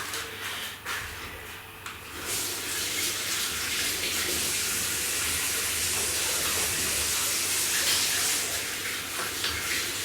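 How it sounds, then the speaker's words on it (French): Water runs from a tap in a home kitchen for hand washing, a steady hissing splash that starts after a brief quieter moment and continues evenly to the end. "Je vais me laver les mains."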